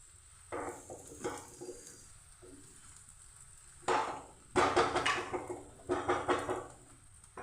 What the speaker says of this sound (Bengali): লাল লাল করে এভাবে ভেজে নেব